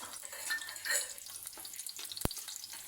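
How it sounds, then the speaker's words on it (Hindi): Garlic frying lightly in oil for a chicken sizzler: a soft, steady sizzle with occasional louder crackles and a single sharp tap, fairly quiet throughout. "इस लहसुन को ऐड करके इसको हम हल्का सा फ्राई कर लेंगे"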